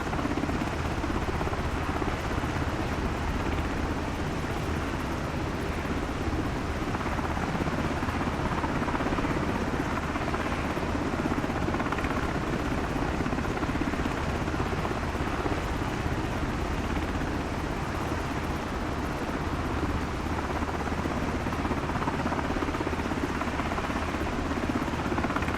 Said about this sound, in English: This helicopter just sounds great though.